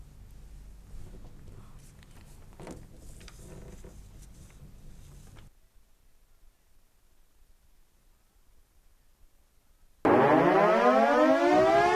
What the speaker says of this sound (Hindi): समय पर सतर्क करने के लिए अब आधुनिक और लंबी रेंज वाले सायरन लगाए जा रहे हैं।